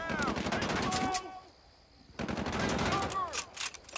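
Pistol gunfire in the Xbox 360 game Battlefield: Bad Company, sharp rapid shots in bursts with a pause in the middle, loud and close, with game voices overlapping.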